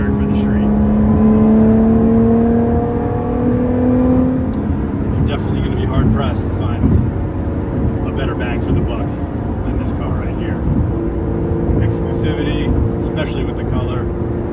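A 2017 Lotus Evora 400 in sport mode, engine droning and revving up as it accelerates from the cabin, with gear changes and road noise, while someone talks over it.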